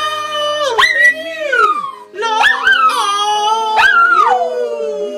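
Dogs howl in long, rising and falling wails with yips mixed in, several drawn-out howls close and loud, with a brief voice among them.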